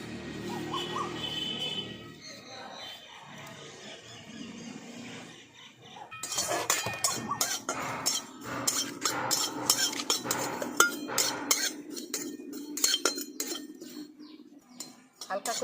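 White sesame and poppy seeds are stirred in a wok over a lit stove, giving scraping and light clinking close up, with a quieter stretch before the stirring grows busier.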